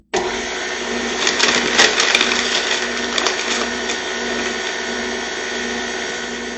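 Electric mixer whipping egg whites at medium speed for banana cream pie meringue, a steady close motor whir with faint grainy rattles as sugar goes in, and no one speaking.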